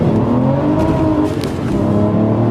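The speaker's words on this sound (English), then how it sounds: "That's the DB9 that takes off ahead." An Aston Martin DB9 race car engine roars steadily at Le Mans with rising harmonic tones as it accelerates hard, no voices present.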